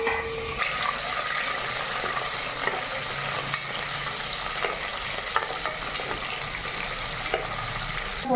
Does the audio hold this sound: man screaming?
no